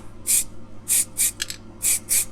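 Short bursts of aerosol undercoat spray hiss onto a die-cast Corgi Studebaker Golden Hawk model car, six quick blasts with brief gaps, close and crisp against a quiet background.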